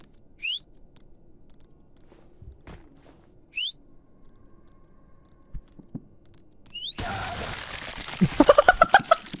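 Two short rising whistles spaced a few seconds apart over quiet background, followed by a louder burst of noisy game sounds.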